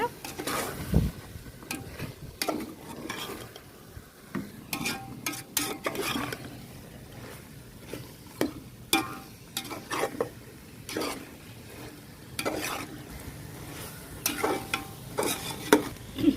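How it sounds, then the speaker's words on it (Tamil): Chicken and masala spices for seeraga samba chicken biryani being stirred and sautéed in a pan, with repeated scraping and clinking of a spoon against the pot over a soft sizzle, steady and close throughout. "பாருங்கள் சிக்கன் நல்லா வதங்கிருச்சு மசாலா பொருள் எல்லாமே வதங்கிருச்சு"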